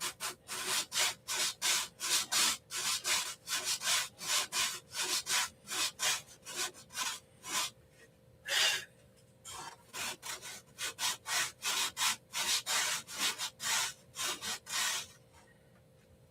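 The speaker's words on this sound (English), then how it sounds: "So this is what I've been doing all afternoon, back and forth, sanding and priming" Hand sanding wood with 180-grit paper wrapped on a rubber block, rhythmic back-and-forth strokes repeating steadily at close range, about two per second, with a brief pause midway.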